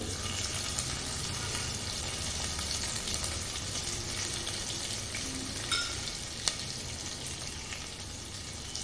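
Green chili and garlic paste frying in hot oil over low flame, a loud, continuous sizzle with scattered crackles and one sharp pop, heard up close with no talking.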